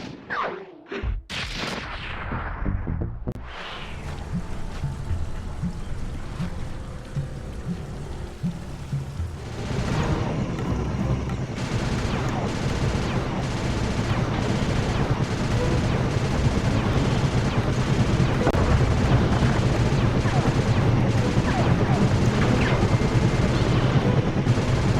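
Bentley opens fire in a Sly 2: Band of Thieves cutscene, a quick cluster of sharp, loud bangs at the start giving way to a dense, roaring wash of noise that persists to the end.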